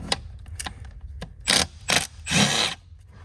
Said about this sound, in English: And I like to take out my screws.